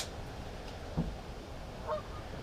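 A couple of distant goose honks from geese flying past sound a second apart over a soft outdoor background hiss.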